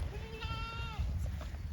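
A goat at a livestock market for sacrificial animals bleats once in a wavering, drawn-out call, moderately close over a noisy outdoor background.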